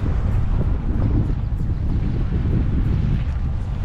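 Strong wind buffets the microphone continuously while wade fishing in Galveston Bay, a loud steady low roar with gusty rumble and faint water wash throughout, no talking.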